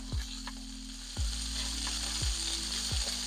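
Chicken skewers frying in oil in a non-stick pan, a steady close sizzle with several sharp knocks as the skewers are turned, no voices.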